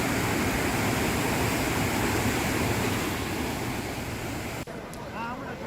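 Floodwater surges over the Dhuandhar waterfall after heavy rain, a dense, steady roar that fills the scene, loud and continuous, easing slightly near the end as other faint sounds come through.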